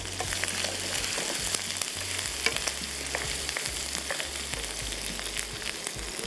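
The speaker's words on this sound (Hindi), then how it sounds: "हल्दी के साथ थोड़ा सा फ्राई करेंगे इसको" Onions and green chilies frying with turmeric in a pan, a dense steady sizzle with crackling pops and occasional stirring scrapes, close and continuous with a low hum underneath.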